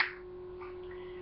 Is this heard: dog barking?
no